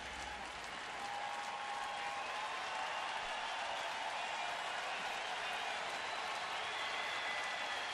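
A ballpark crowd at a Cincinnati at Cleveland baseball game rises into sustained cheering and applause, a steady roar that swells slightly after the first second and stays constant, with a broadcaster's voice faintly present.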